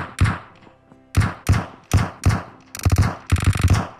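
Sharp, punchy hit sound effects from shots in PUBG Mobile come through clearly and close: single thumps at first, then quick clusters in a burst-like rhythm, with brief gaps between them.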